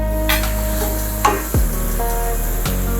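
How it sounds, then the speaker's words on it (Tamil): Tomatoes and mushroom biryani masala sizzle steadily in a hot pan while a utensil stirs them with a few brief scraping strokes, close and continuous with no talking. "எல்லாத்தையும் ஒன்றா மிக்ஸ் பண்ணுங்க"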